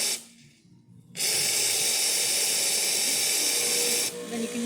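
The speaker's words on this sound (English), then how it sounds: "then you can hear the pump turn on." A Pasquini Livia espresso machine runs with a loud, steady hiss of water and steam, broken by a short quiet gap before the pump cuts in and the rushing, humming flow resumes strongly.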